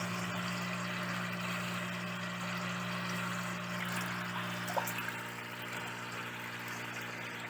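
Water drains out of a crayfish tank in a continuous, steady trickling rush under a low hum, with no one speaking.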